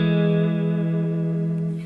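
An electric guitar sustains a ringing chord in a band's song intro, thickened by delay and reverb so the notes blend into a lush, slowly fading wash.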